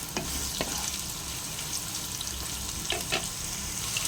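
Carrots and mushrooms fry with cumin seeds in hot olive oil in a pan, giving a steady close sizzle with a few sharper crackles and stirring clicks, and no voices.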